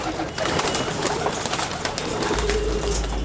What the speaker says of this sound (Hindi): यहाँ पे अभी हम आपको एक कबूतरी दिखाएंगे